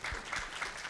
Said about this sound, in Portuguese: Para ele eu agradeço uma salva de palmas